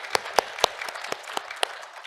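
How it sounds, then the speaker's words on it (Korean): Scattered handclaps ring out as a church congregation welcomes visitors during a Sunday worship service, a sparse run of distinct claps spread over a couple of seconds, moderately close and fading toward the end. "한번 일어나시면 우리 박수로 환영하겠습니다"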